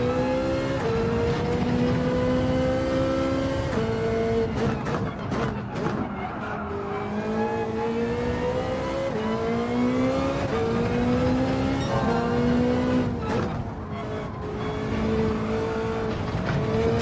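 A mid-engine Ferrari driven in Gran Turismo 7 roars steadily and loudly throughout, its engine pitch rising and falling through gear changes, with tire squeal and skidding as the car rotates through corners.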